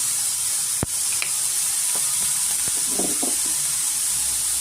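Onions frying in a pan with turmeric and salt for an egg bhurji, a steady close sizzle running throughout with a sharp clink and a few soft stirring scrapes; no talking.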